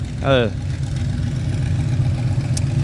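Dodge Challenger V8 idling at a cruise night, a steady deep rumble heard from nearby, with a brief voice over it early on and a faint high chirp near the end.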